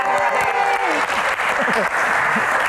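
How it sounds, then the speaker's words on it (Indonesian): Sustained applause from a stand-up comedy Q&A audience, dense and steady throughout, with faint voices mixed underneath. "Seru ya, tepuk tangan lagi dong"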